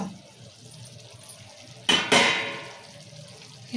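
A metal lid comes off a pot of tomato and drumstick curry cooking on a low flame, giving a sharp clatter followed by a louder burst of bubbling and sizzling that slowly fades.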